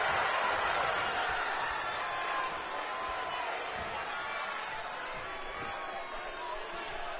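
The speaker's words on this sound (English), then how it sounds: "The crowd's getting into it." A WWE 2K22 arena crowd roars in a broad, sustained wash of cheering that swells at the start and eases slightly, with a commentator-style voice talking over it.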